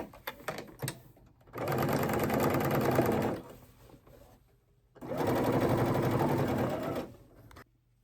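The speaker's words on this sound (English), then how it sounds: "you're just going to sew close the short end of your facing." Sewing machine stitching closed the short end of a dress facing, two steady whirring runs of a few seconds each with rapid needle chatter, separated by quiet pauses and small clicks, close and without talk.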